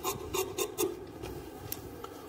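Scissors cut the fabric neckline of a suit in a quick series of close, rasping snips, followed by a few softer cuts.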